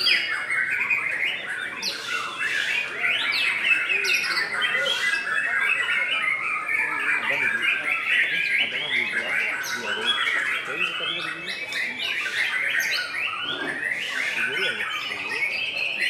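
Many birds chirping and squawking continuously, close and loud, with overlapping calls and brief human voices underneath.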